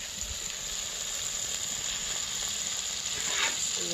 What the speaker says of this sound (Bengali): আর এই যে হালিম মিক্সটা ভিজিয়ে রেখেছিলাম এখন আমি এটা দিয়ে দেব